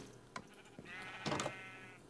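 Sheep bleating in Minecraft, a wavering drawn-out blocky game bleat following a couple of short clicks, clear and close with no talk over it.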